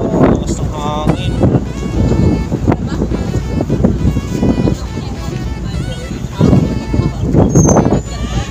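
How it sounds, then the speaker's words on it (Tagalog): Strong wind roars across the open rooftop deck of a provincial passenger boat, the Roco Pamugas Comanda, buffeting the microphone with constant loud gusts while people talk close by. "Lakas ng hangin."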